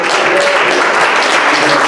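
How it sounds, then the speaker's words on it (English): Steady, dense clapping from a large church congregation, continuous and loud throughout. "Can we clap to the Lord tonight?"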